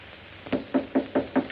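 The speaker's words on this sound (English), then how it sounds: "Why did you knock?" Five evenly spaced knocks on a door in a 1936 comedy film, firm and fairly close, with no voices over them.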